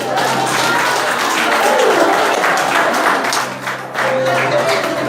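A church congregation applauds during a wedding ceremony, a dense wash of clapping that holds steady, dips briefly, then resumes, with talk mixed in underneath.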